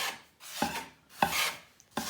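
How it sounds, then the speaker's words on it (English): A spatula scrapes and works homemade pasta dough in three separate strokes, each a soft rasping rub with a sharp start that fades, quiet and close with pauses between. "why don't we grab a spatula and work that in"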